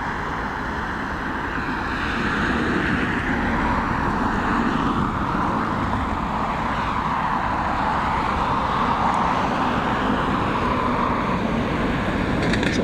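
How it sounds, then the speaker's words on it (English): A large Etihad airliner at Dublin Airport gives a steady, loud, broad roar that swells and holds throughout, with no talking. "It's always nice to see the Etihad here."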